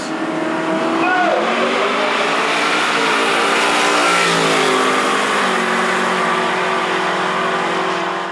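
A drag car with a forged 496 big-block V8 and aluminum heads revs hard nearby at a midnight drag racing event; loud rising and falling engine notes layered with other cars, steady throughout.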